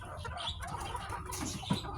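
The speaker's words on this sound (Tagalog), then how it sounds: "Magandang inahin" Game fowl hen on a farm clucking in short, soft bursts, with one louder cluck near the end, amid steady rural background noise.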